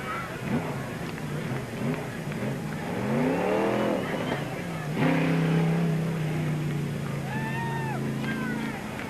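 Race car engines roar past in waves down the first straightaway at Peoria Speedway, revving up and fading as they go by, with crowd and loudspeaker noise underneath.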